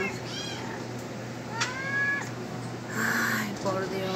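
A cat meows several times, with drawn-out plaintive calls near and clear over a quiet indoor background, one longer meow standing out in the middle, as someone talks at times.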